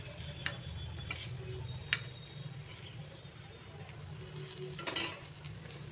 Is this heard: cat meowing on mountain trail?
no